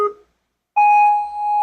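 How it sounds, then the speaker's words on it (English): A single loud electronic beep from the start countdown at a youth ninja obstacle course platform, sounding cleanly after a brief burst of noise and a short silence. "You're going to stay on that platform until you hear this countdown."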